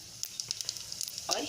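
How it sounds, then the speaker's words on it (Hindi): Cumin seeds dropped into hot mustard oil, giving a soft sizzle with scattered crackling pops, close and fairly quiet, swelling into a brief louder hiss near the end. "ऑयल गर्म हो गया है, इसमें डाल देंगे जीरा"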